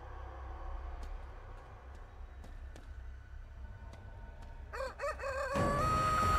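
Rooster crowing and hen clucking in the video game Chicken Feet, a few faint ticking clicks early on, then a louder drawn-out crow rising near the end over a steady low background hum.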